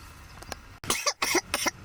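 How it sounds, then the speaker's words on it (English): Harsh coughing right after smoking: several rough, close coughs in quick bursts, with a short throat-clearing hack before them. "Tasty coughs."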